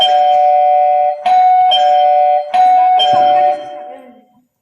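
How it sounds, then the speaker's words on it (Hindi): A doorbell chimes repeatedly, several bright electronic ding tones in a row, loud and close, trailing off at the end. "उसके बाद और एक डोरबेल बजता है।"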